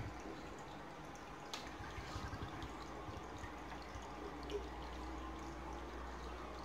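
Steady water flow from an aquarium pump running at strong output in a discus fish tank, a continuous low rushing wash with faint drips, alone and fairly quiet throughout.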